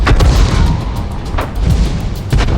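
In World of Tanks, heavy booms come from an SU-14-1 self-propelled artillery gun firing shells and from the shells exploding. Three loud, deep blasts are spaced about a second apart over a rumbling background.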